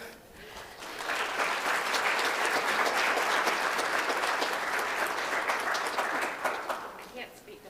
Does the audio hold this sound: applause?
yes